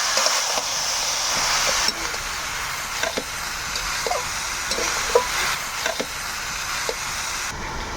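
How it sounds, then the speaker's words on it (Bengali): Grated coconut being stirred in a pan with a spoon while cooking, giving a steady soft sizzle broken by scattered scraping and tapping strokes, close by with no talk. "নারকেলটা আমরা ভালোভাবে নাড়িয়ে নিব"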